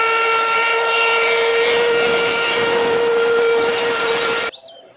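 A toy train's loud, steady whistle with a bright tonal hiss holds for about four and a half seconds, then cuts off abruptly, leaving a faint tail.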